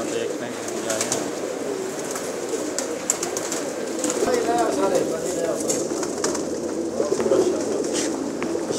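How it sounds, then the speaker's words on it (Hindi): Many pigeons cooing continuously in a pigeon shop where rare birds are kept for sale, a steady dense chorus of soft throaty coos with someone talking over it. "बहुत नायाब कबूतर हैं, सेल करने के लिए रखे हुए हैं जैसे भाई।"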